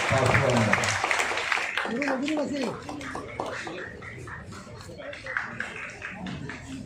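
Applause at an auditorium event for a state finance minister, clapping mixed with loud talk and crowd voices from a hall, busier at the start and thinning as voices take over.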